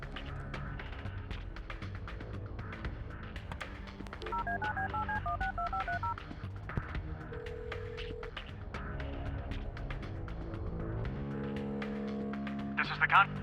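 Telephone dialing tones from the video game Kathy Rain: a run of touch-tone beeps followed by a steady ringing tone, set under continuous talking and background game music.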